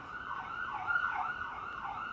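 An emergency vehicle siren wails in steady rising and falling sweeps, moderately loud and slightly distant, passing with no voices.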